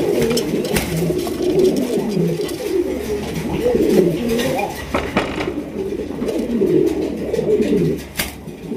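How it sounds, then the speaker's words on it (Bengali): Big Rajgolla fancy pigeons coo in low, rolling phrases close by, with occasional clinks and sharp knocks mixed in. "একদমই বিগ সাইজের রাজগোল্লা কবুতর দেখতেই পাচ্ছেন মাশাআল্লাহ"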